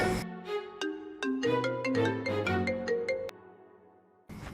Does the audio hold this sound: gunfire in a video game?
no